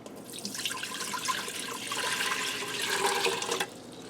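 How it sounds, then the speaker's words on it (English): Four cups of water are poured into a pressure cooker for broccoli mac and cheese, making a soft, steady splashing gush that lasts about three and a half seconds before stopping. "I'm starting out in my pressure cooker, and I'm going to start by putting 4 cups of water in here."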